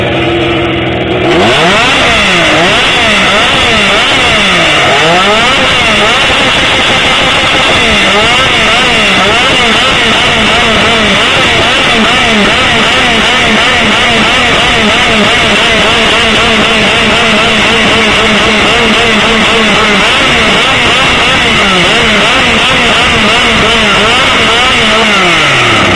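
Two motorcycles, a Honda and a Triumph, rev loudly and repeatedly at a seaside motorcycle rally in Kraimorie, engines rising and falling in rapid overlapping sweeps, close and dominant for the whole stretch.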